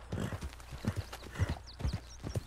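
Horse hooves clip-clop at a steady trotting rhythm in Red Dead Redemption 2, close and clear over soft ambient game sound, with no speech.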